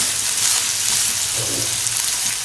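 Onions frying in oil for mutton pepper fry, a steady, close, loud sizzle that runs without a break.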